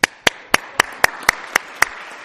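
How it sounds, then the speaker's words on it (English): A church congregation claps in a slow, regular rhythm: about eight distinct, evenly spaced claps in unison, sharp and close, with quiet gaps between them. "Let's give God a big applause"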